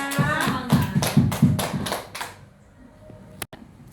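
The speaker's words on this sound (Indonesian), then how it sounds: "tepuk tangan untuk kita semuanya" A small group of women claps in a quick rhythmic pattern, about eight even beats with voices chanting along, at a teachers' training session. The clapping stops after a couple of seconds, leaving quiet with one sharp click near the end.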